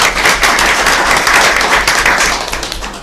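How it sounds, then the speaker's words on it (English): Applause at a Beaufort County school board meeting, a loud close burst of many hands clapping steadily for about three seconds before tapering slightly at the end. "Let's give them a round of applause."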